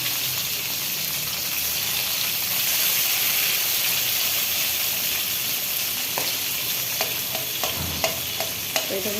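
Tangra fish sizzling steadily in a hot pan of oil, a continuous loud frying hiss with a few sharp clicks of stirring near the end, no voices.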